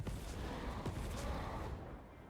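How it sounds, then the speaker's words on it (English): Cannon artillery barrage in Total War: Warhammer 3, a dense continuous roar of distant booms and battle rumble with a few sharper reports, ending slightly quieter. "The cannons rain death."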